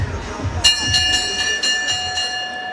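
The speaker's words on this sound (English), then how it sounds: "Go ahead, ring that bell." A boxing ring bell is struck at a boxing event, about six bright metallic clangs in a steady rhythm over a low crowd murmur.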